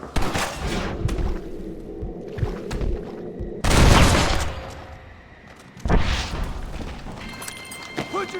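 Gunfire in Red Dead Redemption, several loud, close bursts of shots that break through a noisy scene, with a big blast around the middle and another volley near the end.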